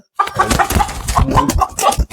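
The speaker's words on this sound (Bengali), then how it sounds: "এখানে আমার কিছু মুরগি আছে" Several American Brahma chickens cluck close by in quick, uneven bursts, a busy chatter of short clucks.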